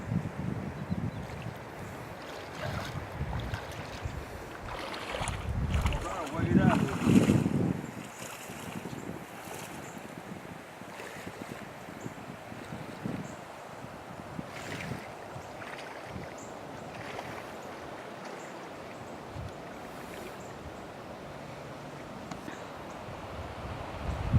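A northeast wind buffets a boat out on North Bay, with rumbling gusts against the microphone that swell around the middle. Water washes faintly beneath it, and no one speaks.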